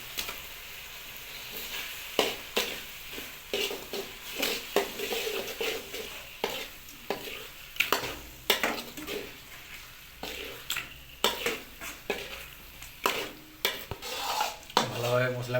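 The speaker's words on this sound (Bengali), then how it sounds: "এবার আমরা চিকেন লিভার অ্যাড করব।" Chicken liver going into spices frying in a pan, stirred vigorously: repeated sharp clanks and scrapes of a utensil against the metal in an uneven rhythm over a low steady sizzle.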